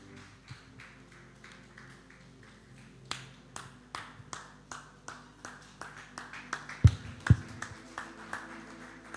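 An audience at a church young ministers conference claps in a steady, even rhythm, the claps fairly faint and roomy, growing a little stronger toward the end.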